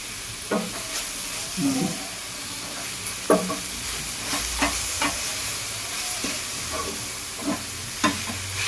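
A coconut and jaggery filling for modak, with dry fruits mixed in, stirred in a pan on the stove. A spoon scrapes and knocks in a steady, uneven rhythm over a low, constant sizzle.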